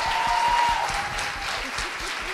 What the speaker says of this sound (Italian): Un altro applauso, va, dai.